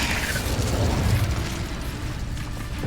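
Incendio fire spell cast in the Hogwarts Legacy video game, a loud rushing burst of flame with a crackling, roaring body that swells and then fades over a few seconds.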